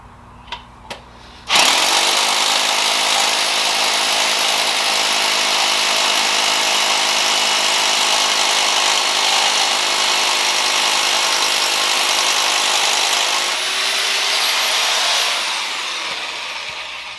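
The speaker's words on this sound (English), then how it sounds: "And now we're going to drill 4 holes." A power drill drills into a concrete garage floor, running continuously and loudly for about twelve seconds after a couple of brief knocks, its whine steady before winding down near the end.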